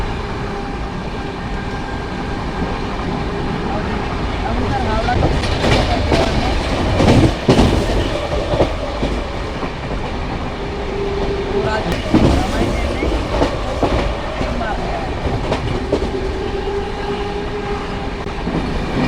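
A train races at high speed through Rajpura station without stopping, a loud continuous rumble with rhythmic wheel clatter over the rails and a few sharper jolts throughout, heard from on board.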